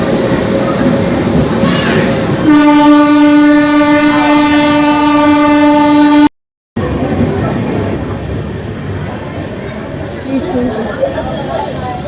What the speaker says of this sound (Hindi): हमारी ट्रेन आई है।